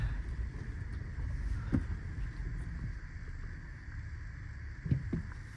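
A car drives a winter road near remote hot springs, giving a steady low rumble of engine and road noise with faint wind and a couple of soft bumps, no voices.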